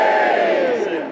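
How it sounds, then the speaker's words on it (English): A crowd at a Reading FC football event gives a loud, sustained shouted cheer that swells and then tapers slightly over about a second. "Let's have a bit of a cheer."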